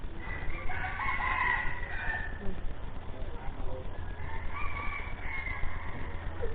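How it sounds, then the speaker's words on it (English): A rooster crows at a monastery, two drawn-out calls at a moderate distance over a steady background hum. "Yes, we've got the chicken."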